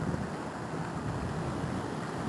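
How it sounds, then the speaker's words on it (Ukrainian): Water from a village pond runs steadily into a dam in winter, a continuous broadband rush with wind buffeting the microphone and no voices. "Вода стікає в дамбу і кудись під дорогою тече далі"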